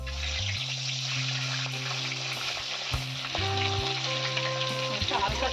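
Payra tori fish frying in hot oil in a home kitchen pan, giving a steady loud sizzle with crackling bursts and scraping stirs near the end, with no voices.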